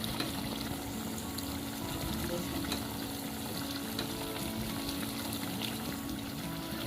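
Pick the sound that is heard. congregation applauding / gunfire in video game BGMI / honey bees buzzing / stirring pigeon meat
stirring pigeon meat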